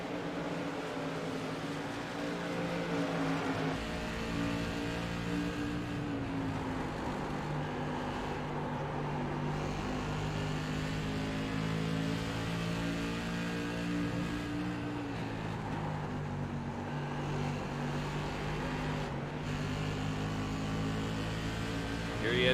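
Stock race cars lapping Irwindale Speedway produce a continuous, droning engine roar that stays steady throughout, with slight pitch shifts as the cars come on and off the throttle.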